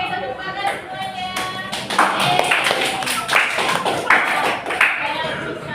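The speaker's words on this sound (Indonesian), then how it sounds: "Oke, tepuk tangan semuanya" A small group of students claps unevenly with sharp hand slaps in a classroom, mixed with people talking and some chatter in the room.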